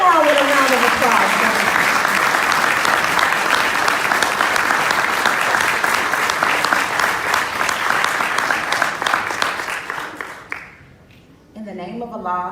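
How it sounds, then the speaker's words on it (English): Loud, sustained audience applause at a Nation of Islam gathering in Los Angeles welcoming someone speaker to the stage. A voice briefly speaks at the start, and the clapping fades out before talk resumes. "Bring her on with a round of applause."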